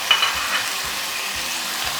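Chicken pieces frying on high heat in a pan for a Chinese-style chicken shashlik with gravy, a steady broadband sizzle with a few soft scrapes and stirring knocks of a spoon.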